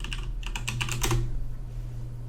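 Rapid clattering keystrokes on a new computer keyboard, a quick burst of close, crisp clicks that tapers off, over a steady low hum with no talking.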